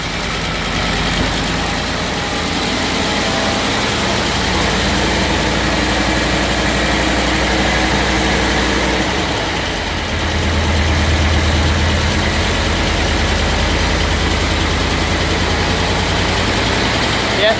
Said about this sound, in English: the computer throttle still flares a fair bit when the engine's cold